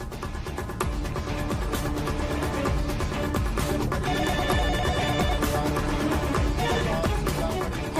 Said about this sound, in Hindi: तो फोन क्यों नहीं उठा रही है?